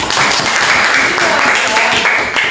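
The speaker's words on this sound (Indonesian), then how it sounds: "Iya, berikan tepuk tangan." Students clapping together in a classroom, a steady dense patter of applause lasting the whole moment, fairly loud and close.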